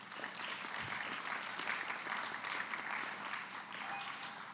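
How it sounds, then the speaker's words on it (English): Steady applause from a conference audience at a business session, a quiet, even wash of clapping lasting the whole stretch with no talk over it. "let's give Sandy a big round of applause"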